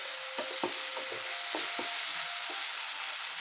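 Green beans frying in oil in a pan fill the clip with a steady, bright sizzle, broken by a few soft clicks and scrapes from stirring.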